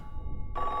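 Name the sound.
telephone ringing in video game Silent Hill 3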